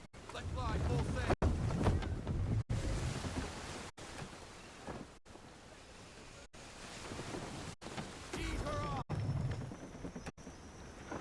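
A sailing ship under full sail in Assassin's Creed 3, with a steady rush of wind and surf and waves washing along the hull, broken by abrupt cuts, while voices talk over parts of it.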